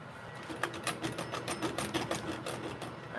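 Welding on a Losi LST rollcage: a fast, steady stream of buzzing crackle pulses repeating several times a second for a few seconds, close and fairly loud, with no talking.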